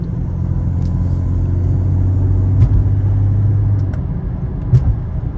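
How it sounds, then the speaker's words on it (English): A 2003 Mercedes-Benz C32 AMG with a supercharged engine and Kleemann upgrades driving under throttle, a steady loud low engine rumble with faint whine, heard from inside the car with a few brief knocks. "A little bit of supercharger whine sneaks through that SL55 intake."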